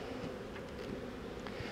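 A dense, steady hum of many honey bees fills a crowded hive box, continuous and close with no voices over it.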